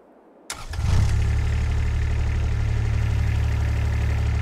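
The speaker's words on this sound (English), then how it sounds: "First off, we're going to start off with the John Deere tractor." A John Deere tractor engine in a farming video game mod starts with a sudden crank and settles into a steady, loud, low idle that runs on evenly to the end, with no voices.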